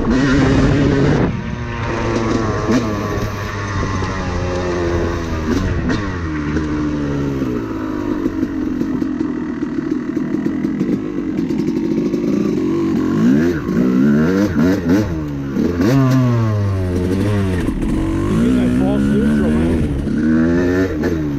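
A 2006 Yamaha YZ250 two-stroke dirt bike fitted with an Apex head, heard up close and loud while ridden, its engine rising and falling through repeated revs and gear pulls with a raspy, buzzing tone throughout.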